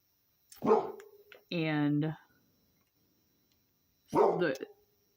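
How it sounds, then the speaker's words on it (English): A dog barks nearby in two short bursts, one at the start and one near the end, with a stretch of speech between them and quiet gaps around it. "excuse me while my dog is barking"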